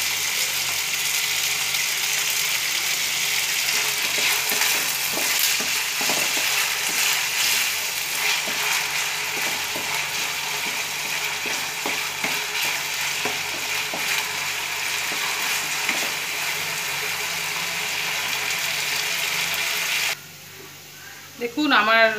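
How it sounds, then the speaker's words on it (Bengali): Carrots and beans frying in a pan with salt for Bengali-style fried rice: a loud continuous sizzle with scraping stirs, before the hiss drops away near the end. "দেখুন আমার গাজর আর বিনটা ভাজা হয়ে এসছে।"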